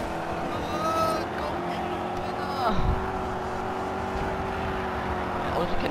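Racing car engine from the GRID 2 video game drones steadily with harmonic whine and gear shifts, running beneath German voices chatting over the gameplay.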